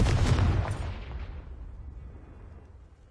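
The Confringo blast spell from Hogwarts Legacy goes off in one loud, close booming burst, then rumbles and fades away over the next few seconds.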